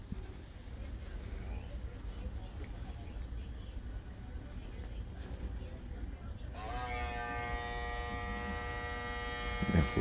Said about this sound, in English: I'm gonna stay with my master cordless with the zero guard on it